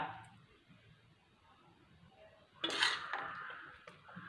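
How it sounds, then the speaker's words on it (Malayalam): A ladle scrapes and clinks against a pot while scooping out fish curry. Near-silence gives way to a brief metallic scrape and clatter partway through, followed by a faint tapering rattle. "കുറച്ച് ഇനി കോരി എടുക്കുവാണേ"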